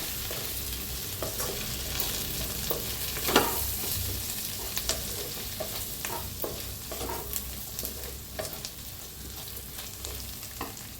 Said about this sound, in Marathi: आता छान मिक्स करून भाजूया।